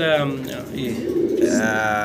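A satinette and a German shield pigeon coo softly nearby in a short burst, with a voice running over the low calls.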